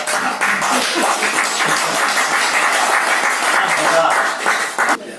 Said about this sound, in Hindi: तालियां मारो यार